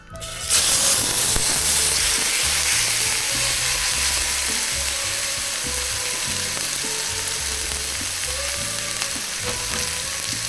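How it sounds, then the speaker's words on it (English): Steak sizzling and spitting in a hot pan on a camper van cooking setup, a loud steady frying hiss that carries through the whole stretch with small crackles and no talk. "It's already starting to spit. I think it's time to get the steak in."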